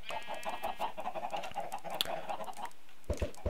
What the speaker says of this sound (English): Chicken's going crazy in the next room.